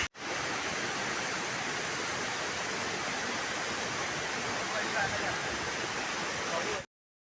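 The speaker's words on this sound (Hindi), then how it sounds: "यहाँ पे हमें एक छोटा सा झरना देखने मिलता है।" A small waterfall flowing in the outdoors near Indore, heard as a steady, broad rushing wash of water that stays close and fairly loud throughout, ending abruptly.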